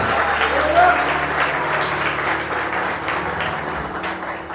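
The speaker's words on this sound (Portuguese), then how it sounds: "Dá salva de palmas, reforce para o Senhor Jesus." Church congregation applauding during an evangelical service, a sustained wash of many hands clapping at even loudness, with a low hum and faint voices underneath.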